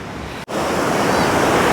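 Surf rolls in steadily at the water's edge of Padma Beach in Bali, a loud, continuous wash of breaking waves with some wind rumble, briefly cut out before resuming.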